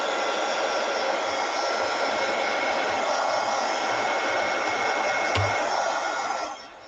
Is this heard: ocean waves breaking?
no